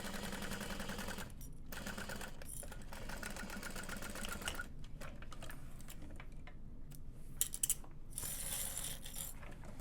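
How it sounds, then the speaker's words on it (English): A sewing machine stitching across the curved bottom of a fabric tote bag, a fast steady mechanical whir and rattle running almost continuously, with a couple of brief pauses and small clicks near the end. "to help reinforce the curve, we can sew across that one more time"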